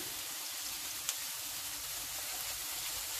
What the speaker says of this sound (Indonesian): jahe sama bawang putihnya nggak terlalu banyak kalau digabung jumlahnya satu sendok makan kurang lebih terus langsung digoreng-goreng bareng